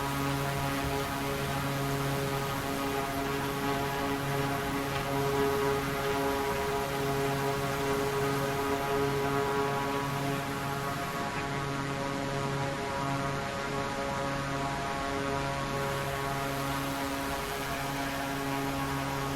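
Aircraft taking off in Microsoft Flight Simulator 2024 on PS5: a steady, droning engine hum with layered tonal harmonics holding constant throughout, no voices.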